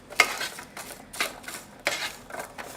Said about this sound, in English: stir them and shake them.